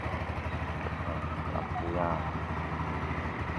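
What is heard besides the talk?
motorcycle engine running smoothly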